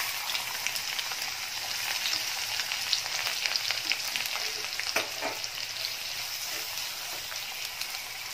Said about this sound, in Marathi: कांदा छान परतून घ्यायचा आहे तेलामध्ये.